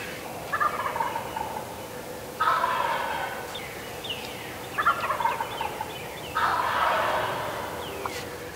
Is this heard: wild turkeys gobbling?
yes